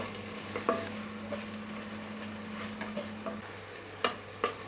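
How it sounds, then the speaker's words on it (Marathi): Crushed garlic sautés in a pan while a mutton thali is being cooked, giving a steady close sizzle broken by a few sharp spatula clicks and scrapes, with no talking. "आता यामध्ये ना ठेचलेला लसूण घालायचा आहे आपल्याला. हा सुद्धा ना आपल्याला परतून घ्यायचा आहे."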